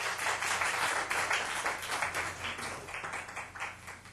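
Audience clapping breaks out at a city council study session, a brief, dense patter of many hands at moderate distance that tapers slightly toward the end.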